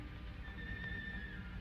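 A horse whinnies in a long, drawn-out call over a steady low rumble of background noise, heard from a short distance with no talking.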